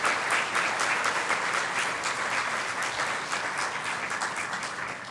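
A church congregation claps during a Spanish-language sermon, a dense, sustained round of applause that stays loud and steady before slowly tapering, with no talking over it.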